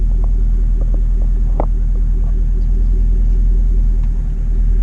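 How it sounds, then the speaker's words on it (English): Deep, steady rumble of a custom 1950 Studebaker truck's engine as it creeps off slowly, a loud low idle-like drone with a few faint clicks and knocks over it. "Well, let's drive it. I'll go real slow out of here."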